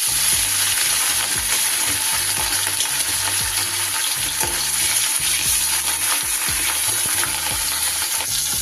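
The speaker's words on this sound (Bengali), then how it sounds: "তেলটা গরম হলে মাছগুলোকে আগে ভেজে নেব।" Marinated katla fish pieces frying in hot mustard oil, a steady loud sizzle and crackle running throughout with faint intermittent scrapes and clinks, no voices.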